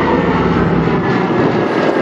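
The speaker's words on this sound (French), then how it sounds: "Avec ce bruit lancement des moteurs à piston." Loud, steady drone of a Canadair water bomber's piston engines running up, a thick continuous rumble filling the whole stretch with no pauses.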